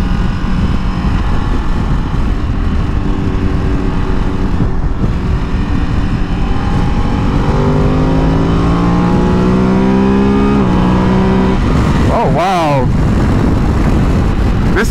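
A 2023 Ducati Desert X motorcycle engine runs steadily and loud throughout while being ridden, with rising and falling pitch as it revs up through gears, plus wind noise and a brief whoosh near the end.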